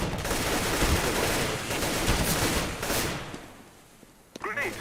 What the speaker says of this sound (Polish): Słyszę gdzieś snajpera chyba.